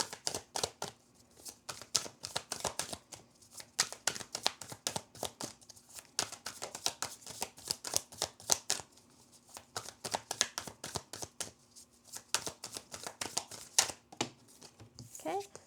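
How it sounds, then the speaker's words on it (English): Tarot cards being shuffled, a deck whose cards tend to stick together, giving rapid dense riffling and flicking bursts that run almost continuously at close range, with brief pauses between flurries. "So sometimes when I'm shuffling, a lot of cards jump out at the same time."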